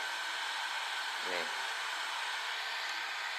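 A heat gun warming a Callaway Mavrik Pro iron head to free it from the shaft for reshafting, giving a steady, close airy roar throughout while a person briefly speaks over it.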